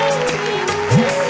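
An audience at a Hindi poetry recital gives dense, steady applause that stays even and fairly loud, with a brief voice-like tone rising near the end.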